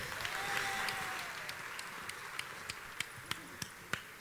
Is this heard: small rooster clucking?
no